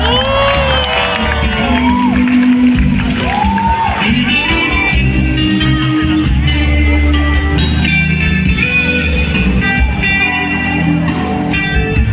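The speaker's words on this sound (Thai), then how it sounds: "ขอเสียงปรบมือให้หน่อยครับ" A concert audience cheers, whoops and shouts continuously, a dense loud crowd roar with individual high yells rising above it throughout; no clear clapping stands out.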